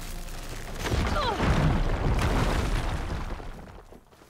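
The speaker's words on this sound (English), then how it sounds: "Why am I going to hide from the explosion" A deep explosion booms in the video game Horizon Forbidden West, a loud rumbling blast that swells after a second, holds for a couple of seconds with crackling debris, then slowly fades away.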